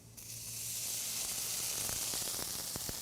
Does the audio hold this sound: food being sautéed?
yes